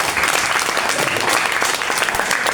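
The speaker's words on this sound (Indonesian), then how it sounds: "Boleh kita berikan sekali lagi tepuk tangan yang meriah." Lively applause from an audience at an Indonesian event, a loud, continuous wash of many hands clapping together without a break.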